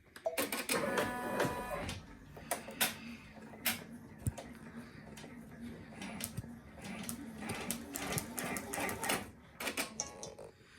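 Embroidery machine starting on kitchen towels, a busy mechanical clatter of rapid ticks and taps over a low hum, uneven with sharp clicks and brief pauses, close by.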